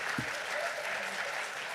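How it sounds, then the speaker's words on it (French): Audience applause during a France Bleu La Rochelle radio broadcast featuring the comedy troupe Les Chevaliers du Fiel, a steady, moderately distant clapping wash lasting under two seconds with no voices over it. "C'est un vrai, on peut l'applaudir."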